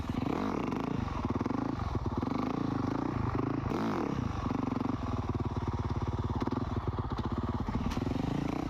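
A motocross motorcycle idles and blips its throttle at low revs while doing slow wheelies on grass, with a steady close engine drone and a few brief surges.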